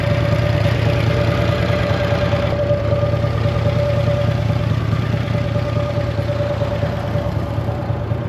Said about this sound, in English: I think Juan's scared to shut his bike off.